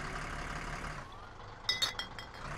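Beer bottles clinking together inside a moving car in the video game My Summer Car, a few short glassy knocks over a steady engine drone.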